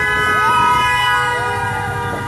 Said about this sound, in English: He really wanted to make sure we heard his honk.